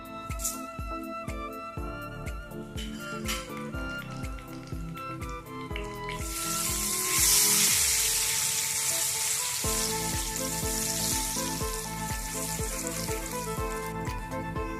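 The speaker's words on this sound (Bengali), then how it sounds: "এবার গোটা গরম মশলা সাজিরা গোটা জিরে তেজপাতা দিয়ে দেবো" Whole garam masala, cumin and bay leaves frying in hot oil crackle and sizzle near at hand, with a regular pulsing hum underneath and a louder hissing burst midway, no voices present.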